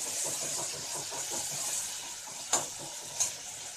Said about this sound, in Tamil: ஸோ தக்காளி ஆட் பண்ணிவிட்டு அது 2 மினிட்ஸ் வந்து நல்லா வதக்கிக்கலாம்.